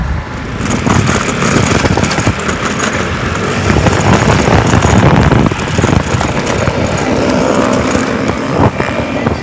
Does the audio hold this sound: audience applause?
no